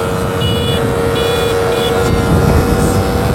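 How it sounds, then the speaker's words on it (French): Motorbikes of 125cc and 50cc accelerating flat out in sixth gear, a steady loud engine drone with faint whine tones above, continuous throughout with no talking. "On va se mettre à 50 et on va accélérer à bloc."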